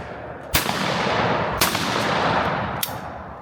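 Three shotgun blasts at sporting clays targets during tournament practice, sharp cracks spaced about a second apart over steady outdoor background noise.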